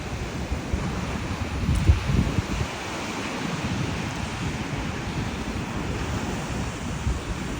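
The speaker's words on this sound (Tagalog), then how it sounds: "Ayun, lakas ng alon." Strong ocean waves roll and crash onto a cold beach where surfers are out, a steady loud wash of surf with wind buffeting the microphone and a slightly bigger surge near two seconds.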